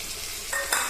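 Prawns going into a pan of sizzling pumpkin curry with Malabar spinach, a steady frying hiss with two sharper bursts of sizzle near the end as they hit the hot oil.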